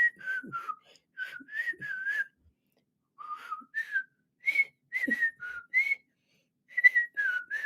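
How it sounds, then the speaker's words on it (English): A person whistles a halting tune of short phrases and single notes with brief pauses between them, clear and close, with no talking. "it's made it difficult for me to whistle."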